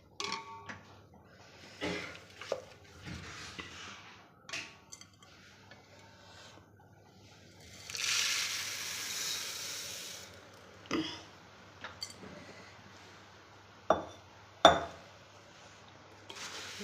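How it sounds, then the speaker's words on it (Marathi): Puffed rice pours into a pan over low heat for puffed-rice chivda with a pani puri flavour, giving a soft rustling rush, then scattered clinks and scrapes of a spoon stirring against the metal pan. "मंद गॅसवर याला थोडं गरम झालं, आपण आता मुरमुरे टाकणार."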